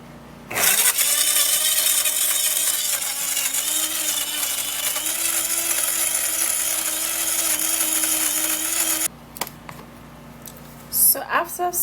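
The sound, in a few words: blender blending banana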